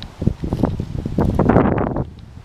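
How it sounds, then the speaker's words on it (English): Gusty wind buffets the microphone with loud, irregular low rumbles, building to a heavier blast before easing off. "Sorry that it's so windy."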